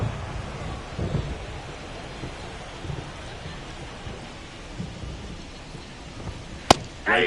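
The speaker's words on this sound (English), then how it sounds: "This rain is not letting up." Rain and distant thunder at Citizens Bank Park in the MLB The Show 24 baseball game, a steady low rumbling wash of rain with a brief sharp crack near the end.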